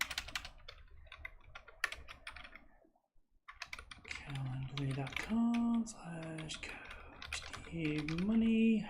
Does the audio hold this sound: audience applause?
no